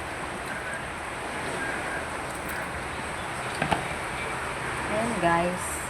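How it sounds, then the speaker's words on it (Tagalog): Noisy sea at a seaside home, a steady broadband wash of surf and wind filling the whole clip, with a voice briefly heard near the end. "Kahit hindi naman umuulan, maingay pa rin yung dagat."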